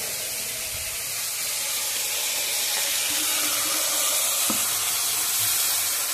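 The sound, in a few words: water added to a hot pan, sizzling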